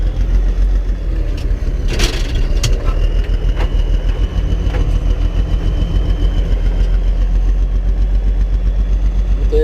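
A large tractor engine rumbles steadily and loudly while reversing to hitch a trailer, with a low idling drone and occasional clanks and creaks on top.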